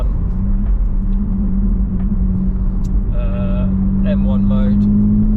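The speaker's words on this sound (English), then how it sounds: "initially you can already hear the exhaust valves have opened, the burbles are now coming through on overrun" A BMW M3 G81 with a custom exhaust and its valves open, rumbling deeply at idle and then giving a few crackling burbles on overrun. Someone talks over the engine the whole time.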